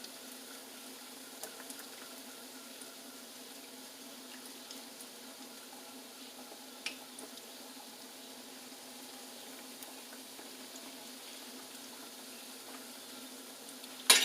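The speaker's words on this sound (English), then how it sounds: "You'll notice that they will puff up really quickly because of the yeast, so I normally just go ahead and flip them over" Yeast mandazi dough frying in hot oil, a steady, even sizzle and bubbling hiss running throughout at moderate level, with a couple of faint clicks and a brief louder knock at the very end; no talking.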